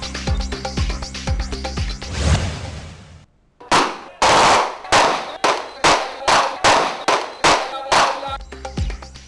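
Loud bursts of gunfire fired into the air at a political election rally in Multan: a rapid rattle, a brief pause, then a string of sharp shots in a steady rhythm, close and echoing.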